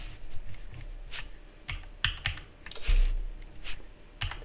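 Keystrokes clatter on a computer keyboard in irregular bursts of sharp clicks, close and fairly quiet, with no voices.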